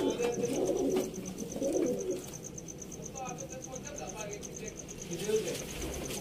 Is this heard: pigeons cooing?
yes